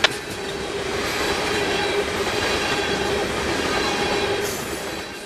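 A CSX freight train rolls steadily past at Baldwin, Jacksonville, a loud, continuous roar of wheels and cars on track with faint squealing throughout, close by and heard on its own.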